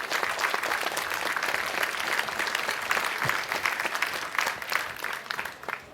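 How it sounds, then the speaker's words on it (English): Conference audience at a hacker congress talk on DNS applauds the speaker, with steady dense clapping from a large hall that continues evenly throughout. "have a round of applause for Alt F4"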